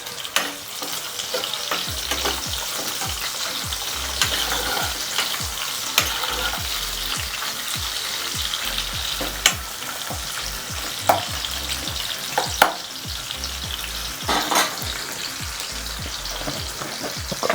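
Thin-sliced onion spluttering in hot oil for a tomato egg curry, a dense continuous crackle and sizzle with sharp pops scattered through, close and steady with no talking.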